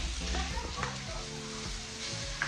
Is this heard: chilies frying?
yes